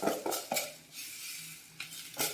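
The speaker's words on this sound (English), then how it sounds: "So I'm adding rice." Rice for chicken pilau is added to boiling water in a pot, with several close, rustling pours and clinks of a utensil against the pot over a soft bubbling background.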